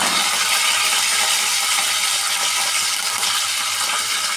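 Curry leaves dropped into hot oil with spluttering cumin seeds for a tempering, a loud, dense, crackling sizzle that fills the moment without any voice.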